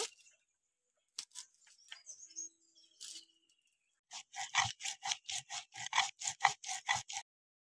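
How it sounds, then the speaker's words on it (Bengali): Cumin, ginger and coriander are ground into paste on a stone, with sparse scrapes at first, then a run of rhythmic, close grinding strokes near the end. "আমি জিরে, আদা, ধনে সবগুলো বেটে নেব"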